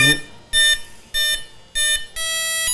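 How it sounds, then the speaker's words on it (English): Four electronic ESC arming beep tones from a Durafly P-40N RC plane in a steady rising sequence, each about a quarter second long, separated by short gaps, the last one held longer; close and clear. "We'll get the arming tone."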